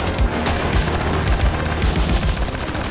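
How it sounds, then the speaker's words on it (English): BTR armored carriers lay down support fire in the Armored Brigade II tactics game, a dense, continuous fusillade of rapid gunshots mixed with heavy booms, loud and unbroken throughout. "these BTRs are providing support fire"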